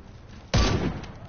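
A single loud gunshot from a video game fires close and sharp, with a brief boomy tail fading over about half a second, then quieter game ambience.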